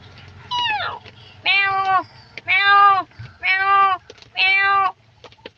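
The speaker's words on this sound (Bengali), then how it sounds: "তারপর বিলাই" A cat meows five times in a row, each call loud, drawn-out and close, separated by short pauses over a quiet background.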